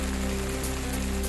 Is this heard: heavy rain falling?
yes